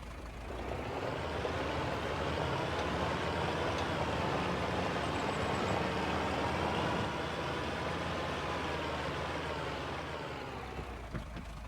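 A modded tractor in the Farming Simulator 25 video game runs with a steady engine drone carrying a whining tone, rising smoothly and then easing off toward the end.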